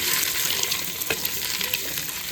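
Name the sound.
egg sizzling and spattering while frying in oil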